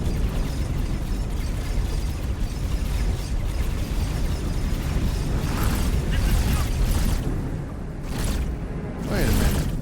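Ship weapons fire and explosions in the space game X4: Foundations, heard as dense, continuous bursts and booms with sharp crackling blasts near the end, loud throughout.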